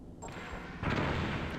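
A grenade explosion in Metal Gear Solid: a dull boom that swells into a sustained rumbling blast, fairly loud and close, heard alone.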